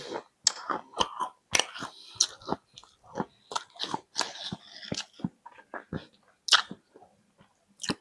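Tokapi BBQ and Spicy potato chips are bitten and chewed up close, giving sharp, irregular crunches in quick bursts with brief pauses and no talking.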